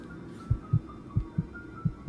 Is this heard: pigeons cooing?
no